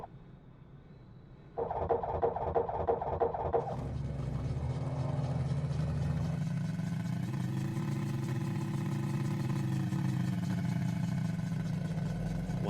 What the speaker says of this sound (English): press and hold the starter until you hear the engine come to life